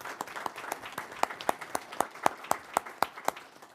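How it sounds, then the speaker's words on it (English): A committee hearing room audience gives a short round of applause, a thin cluster of distinct, evenly spaced hand claps at moderate distance, faint and without voices. "If we could have a round of applause."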